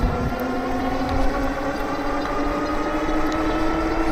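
The motor of a Mukkpet Breeze dual-battery cargo e-bike whines steadily at full throttle, a constant close electric drone with a clear tonal hum and no pauses.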